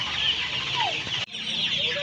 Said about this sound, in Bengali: সেলিমদার কাছে মুরগি আছে দেখুন